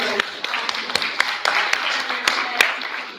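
Brief applause at a university faculty senate meeting: a scattering of separate, fairly close hand claps at an uneven pace over a soft room murmur, with some talking mixed in.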